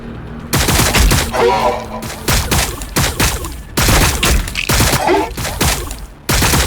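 Gunfire and explosions in the Warhammer 40,000 Battlesector video game: dense, loud rapid-fire bursts and booms crowding together almost without pause, with brief gaps between volleys.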